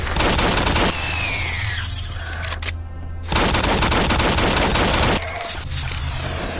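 A very fast-firing pistol in the video game Doom 3 releases loud, dense bursts of rapid gunfire, with a brief silent gap in between and a short voice exclamation at one point.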